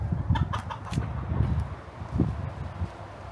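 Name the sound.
chickens and roosters clucking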